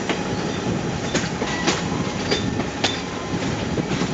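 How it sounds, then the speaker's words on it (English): A Conway Scenic Railroad train runs on rails through Crawford Notch, New Hampshire, with a steady close rumble and regular clickety-clack wheel beats, and no voices. "On the Crawford Notch train ride from North Conway up through Crawford Notch"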